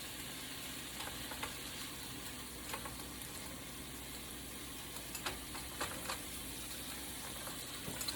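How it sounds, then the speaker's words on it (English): Shrimp searing in a hot pan over high heat, giving a faint, steady frying hiss with scattered small crackles and light pops throughout. "I'm gonna just throw my shrimp in there now. And get those going."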